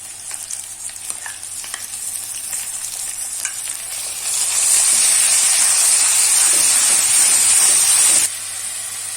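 Garlic ginger paste is frying with browned onions for a spicy mutton curry. The pan sizzles and hisses steadily, with occasional stirring scrapes, and the sizzle swells louder about halfway through.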